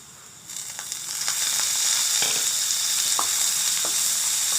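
Minced meat hits a pan of browned onions, and the frying builds from a soft sizzle to a strong, steady hiss, with a few sharp spatula scrapes along the way.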